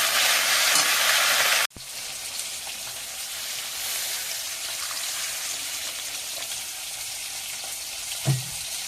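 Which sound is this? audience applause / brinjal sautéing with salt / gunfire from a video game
brinjal sautéing with salt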